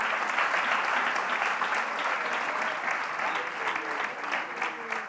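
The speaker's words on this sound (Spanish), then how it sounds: "Un aplauso al Señor en esta hora." A church congregation applauds in a loud, sustained burst of many hands clapping, with a faint murmur of voices running beneath the clapping throughout.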